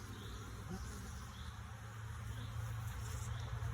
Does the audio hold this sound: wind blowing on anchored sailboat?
no